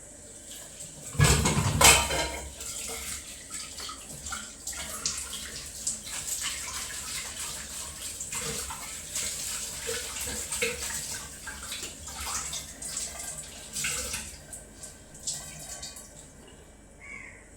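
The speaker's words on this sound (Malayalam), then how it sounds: "ഇനി തുണിയൊന്ന് കഴുകിയെടുത്തേക്കട്ടെ." A cloth being washed under a running tap in a home kitchen, steady close splashing and trickling water throughout with a louder burst near the start and no talk.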